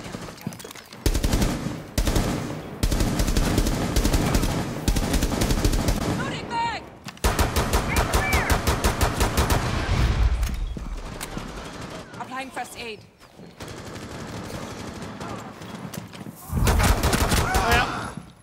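Gunfire in Rainbow Six Siege during a Terrorist Hunt match: repeated bursts of rapid automatic fire with brief pauses between them, loud and close, with voices talking over parts of it.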